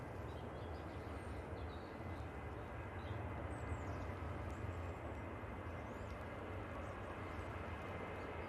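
An airplane touching down at Manchester Airport, heard as a steady, distant roar of engine and runway noise that holds evenly throughout with no talking.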